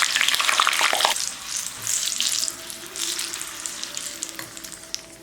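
Green chillies frying in hot oil for a South Indian idli sambal, a steady close sizzle with crackling bursts and stirring, loudest at the start and easing slightly afterward.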